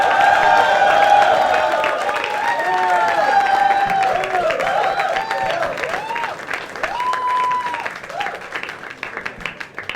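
A live audience at the Irshaad 3.0 show at Above The Habitat, Mumbai, claps and cheers loudly and steadily for ten seconds to welcome performer Vimal Chitraa, with whoops and voices rising from the crowd.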